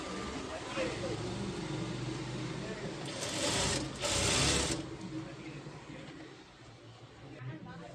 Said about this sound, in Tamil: இப்போ இதை சுற்றி வந்து நம்ம மேலே வந்து ஒரு தையல் போட்டுக்கிறலாம்.